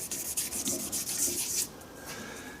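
Micro-mesh pads rub rapidly back and forth against a turned shaving brush handle, a close, soft scratchy swishing in quick strokes that eases into a gentler, steadier rub.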